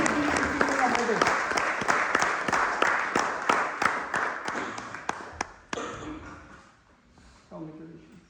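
An audience applauds a medal recipient at an Indian diaspora awards event in Oxford, with dense, steady clapping and a few sharp individual claps that taper off toward the end, followed by a brief murmur of voices.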